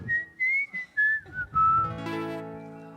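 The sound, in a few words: whistling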